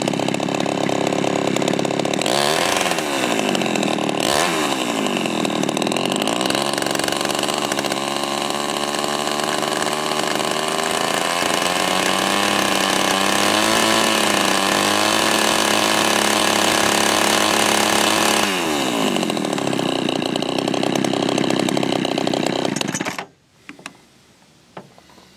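A Craftsman 3.7 chainsaw with a freshly Power Sharp–sharpened chain revs and cuts. It makes a loud, continuous buzzing whine whose pitch rises and falls with the load, then cuts off abruptly near the end. Nobody speaks.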